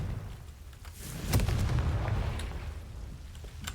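A Confringo blasting curse explodes in the Hogwarts Legacy video game: one deep, booming blast with a rumbling tail that fades slowly, heard alone without speech.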